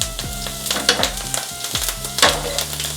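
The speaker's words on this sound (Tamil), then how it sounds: "லைட்டாக அப்படியே கருவேப்பிலையை போட்டு விட்டுட்டு எண்ணெய் கொஞ்சம் ஸ்லோ பண்ணிக்கோங்க" Curry leaves dropped into hot oil on a pan sizzle and crackle, with sharp bursts of spitting over a steady frying hiss, close and loud, no talking.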